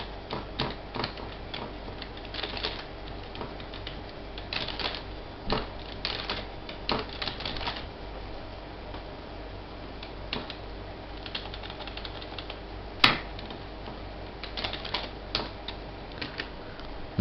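Keystrokes on a computer keyboard while entering data into MS Excel 2003, a steady run of light clicks with one sharper key strike near the end, heard alone over faint background hiss.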